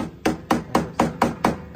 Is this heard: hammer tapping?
yes